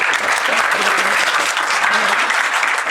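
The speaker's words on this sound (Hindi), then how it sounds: "ठोको ताली।" A lecture audience claps in a dense burst of loud applause that lasts a few seconds, with bright, even clatter throughout.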